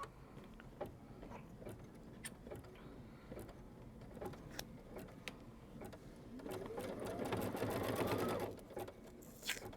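An embroidery sewing machine runs placement stitches, ticking and whirring steadily at close range, with a rising pitched sweep near the end.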